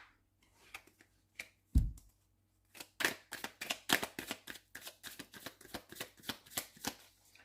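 Oracle cards shuffled by hand for a six-card reading: a few separate snaps and taps, then a quick, steady run of crisp riffling flicks, close up and with no talking.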